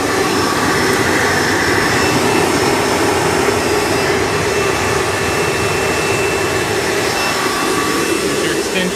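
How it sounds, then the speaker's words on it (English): A Hoover Breathe Easy U5270-930 upright vacuum cleaner with a direct-air design runs loud and close, giving a steady, unbroken broadband roar with a faint high whine throughout. "Suction is not really the highest because this is a direct air machine."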